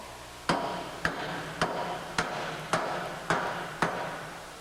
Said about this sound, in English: you'll hear a different tone of the hammer as he's striking it